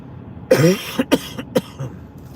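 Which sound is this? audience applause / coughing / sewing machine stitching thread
coughing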